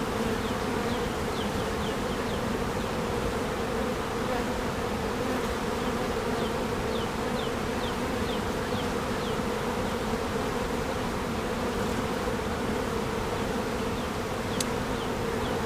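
A dense, steady hum of many honeybees buzzing continuously at close range, with faint clicks and rustles now and then.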